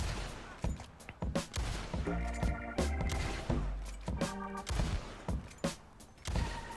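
Repeater rifle fire in the Red Dead Online video game, a handful of sharp gunshots spaced out over several seconds with a lever-action clack between shots and faint game ambience underneath.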